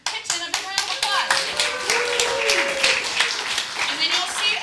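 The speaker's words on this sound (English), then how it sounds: "we want to give Kitchen a big round of applause" An improv theatresports audience claps and applauds, starting with a few sharp separate claps that swell into a dense, lively round of applause with children's voices mixed in.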